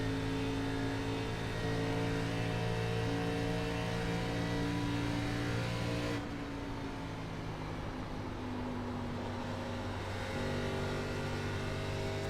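ARCA race car engine in the iRacing game at Pocono, a loud sustained engine drone holding a steady pitch, then dropping in tone partway through as the car lifts, with no talk.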